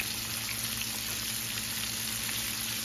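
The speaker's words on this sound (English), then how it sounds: "You hear that sizzling" Chicken wings sizzle and crackle steadily in hot frying oil, a dense, even frying hiss up close with no talking.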